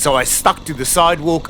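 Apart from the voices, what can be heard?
No everyday noise stands out behind the speech.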